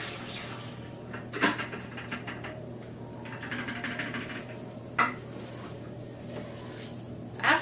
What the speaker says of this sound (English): we're simply going to pour the Permawash down the drain